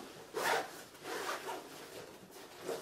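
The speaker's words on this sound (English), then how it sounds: "there's a zipper here" A zipper on an Osprey Momentum 26L backpack is drawn open to expand the bag, a few soft rasping pulls at close range, fairly quiet, with no speech.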